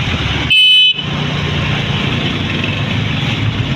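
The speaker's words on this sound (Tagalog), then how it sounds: "Sa Tambo, grabe traffic." Heavy road traffic in Tambo with a steady roar of engines, broken by one loud, short car horn blast near the start.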